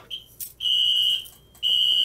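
A fire alarm on a Notifier AFP-200 panel test gives three loud, piercing high-pitched beeps, each sustained with short gaps between them, close and alone with no talking.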